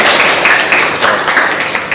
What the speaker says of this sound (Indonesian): tepuk tangan untuk Dela